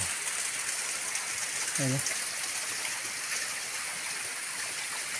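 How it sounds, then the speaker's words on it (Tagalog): Natural spring water flows near a river in a steady, even rushing wash, with a short voice speaking briefly over it partway through. "Ay, nakita niyo, bukal yan."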